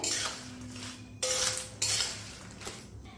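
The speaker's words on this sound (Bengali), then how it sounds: "এবারে নুন আর হলুদের গুঁড়োটা এই কুলের সঙ্গে ভালো করে মিশিয়ে দিয়ে" Spoon scraping and clinking in a pan as plums are mixed with salt and turmeric, a few loud bursts of metallic scraping and knocks over quiet background.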